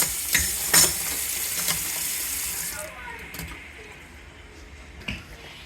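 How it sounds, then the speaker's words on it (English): Chili ingredients brown in a pan on a stovetop with a broad frying hiss, broken by a few sharp clatters of stirring and utensil knocks, then thinning to a quieter, steadier sizzle. "Alright, so it's browning."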